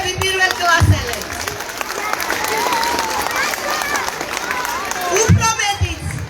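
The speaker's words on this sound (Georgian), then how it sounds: "აპლოდისმენტები პირველ კლასელებს." Applause and crowd noise at a school ceremony for first-grade pupils at Tsaltubo Public School No. 1, a steady wash of clapping and hubbub with music-like tones running through it and louder bursts near the start and end.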